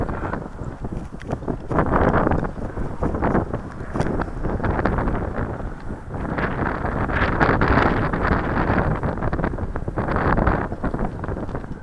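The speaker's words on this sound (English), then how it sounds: "Well, that's hard fighting that wind, ain't it?" Strong, loud wind buffeting the microphone outdoors during timber work in a high wind near Henryetta, gusting steadily for the whole stretch with no talk.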